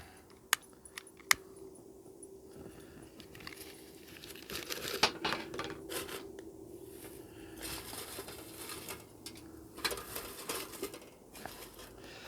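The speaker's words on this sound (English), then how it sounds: "I'm going to go get some paper and wad up and put down there" Paper being wadded up as starter fuel for a beehive smoker: close, dry crinkling and crumpling with a few sharp clicks and taps, irregular and fairly quiet, with no talking.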